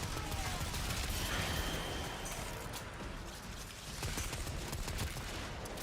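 Rapid gunfire in the Warframe video game, a dense, continuous rattle of shots that fills the whole stretch without pause, close and loud.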